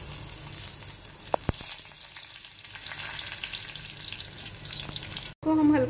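Cumin seeds sizzle in two tablespoons of hot oil in a pan, a steady close crackling hiss with a couple of brief sharp clicks, ending in a louder rush of frying.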